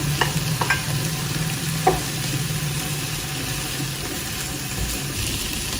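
Cooked rice, two cups, stirred into a frying pan with a scraping spoon and a low steady sizzle, several brief clicks of utensil against the pan early on, no talk.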